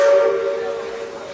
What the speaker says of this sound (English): that was a blowdown